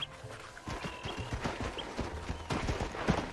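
Horse hooves galloping in Red Dead Redemption, a steady fast clip-clop rhythm close by, with faint background game sounds and no talk.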